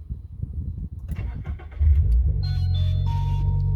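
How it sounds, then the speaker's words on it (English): A Subaru BRZ / Toyota GR86 cranks over with scattered mechanical clatter, then fires up into a loud, close, steady idle rumble that settles and holds after an oil and filter change. "I'm gonna let it run for 10 seconds while the engine is on"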